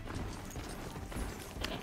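Hooves of a horse mount galloping in the video game Horizon Zero Dawn, a steady rapid clip-clop rhythm running through the whole stretch at moderate loudness amid game ambience.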